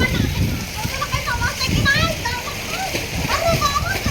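Water splashes and sloshes in a swimming pool on a family trip to Lonavala, with someone tossing water around. The splashing runs steadily up close while children's voices and other chatter carry on over it.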